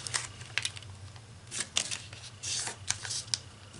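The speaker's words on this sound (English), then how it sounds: "now fold this edge to the middle." Origami paper being creased and folded edge to middle for an octagonal flying flicker model, giving a run of soft crisp rustles and sharp paper snaps, close and fairly quiet, with no voice.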